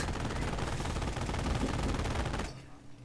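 Rapid machine gun fire and overlapping gunshots in the World War II strategy game Company of Heroes rattle in a dense continuous burst, then fall away to quieter background noise.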